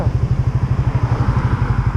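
A well-kept motorcycle used daily for work runs at idle, a loud, close engine putting out quick, evenly spaced thumping pulses in a steady rhythm, with nobody talking over it.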